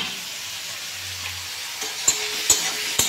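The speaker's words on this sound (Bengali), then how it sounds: "ভালো করে আমি পেঁয়াজটা এখন অনেকক্ষণ ধরে নাড়াচাড়া করে ভেজে নেব।" Onions sizzle steadily in a pan as they are stirred and fried, making a close hiss with a few sharp scraping knocks of the spoon near the end.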